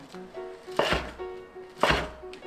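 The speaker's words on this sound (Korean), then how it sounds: "이렇게 1cm 간격으로 썰어줄게요" Knife chopping fish cake into 1 cm slices on a cutting board for quick japchae, two sharp, loud, close cuts about a second apart with no talking.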